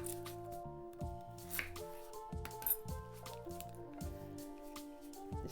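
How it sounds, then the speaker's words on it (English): A knife roughly chops an onion on a cutting board, a quick run of close, crisp squishing cuts and taps with steady rhythm and soft background music. "I'm going to slice, or chop really, an onion."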